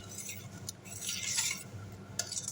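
A spoon scrapes and stirs Nigerian pepper stew frying in a pot, a soft, steady sizzle with faint scraping and clinks, quiet and close with no talk.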